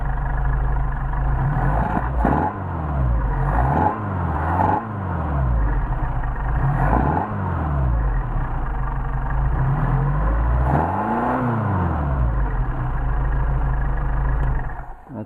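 Mercedes 190SL engine with Solex carburetors running steadily close by, a loud continuous idle with several rising and falling revs spread throughout, no talking.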